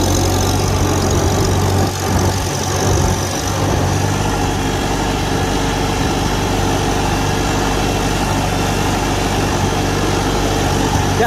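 A 1949 International Harvester Farmall Super A tractor engine runs steadily during a ride on a road, a loud continuous low chugging hum with no breaks or rattles.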